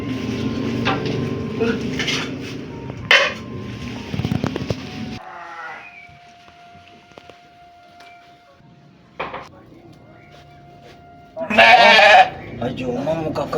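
Sheep bleating nearby in a Sundanese village, a few wavering calls scattered among quiet stretches, with people talking and some clattering early on and a loud burst near the end.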